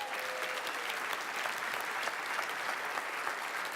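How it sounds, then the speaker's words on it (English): A crowd at a NAMM Show talk gives a full, steady round of applause, a dense wash of clapping that stays even in volume for several seconds. "Give them a big round of applause."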